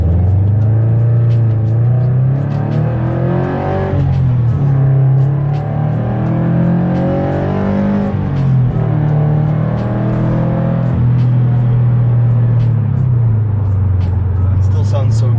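A Subaru BRZ engine rumbles and revs up loudly through several acceleration pulls, with a deep aftermarket exhaust drone that rises and falls throughout, a voice talking over it.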